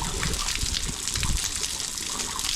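Water is forced back through the exhaust hole of an outboard motor to flush out impeller pieces and debris, a loud, continuous gushing spray with a rough, churning splatter throughout.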